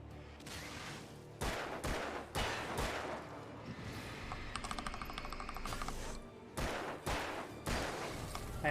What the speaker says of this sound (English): I accidentally used a hunting rifle shot.